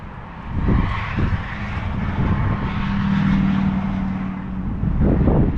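An appliance blowing heated air outdoors gives a loud, steady roaring rush, like a fan or engine drone, with a low hum through the middle and rumbling gusts at the start and end.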